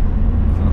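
Tuned Badger5 287BHP Mk1 Seat Leon Cupra R 225 with a BAM engine, a brief deep rumbling engine drone, loud and close, heard alone.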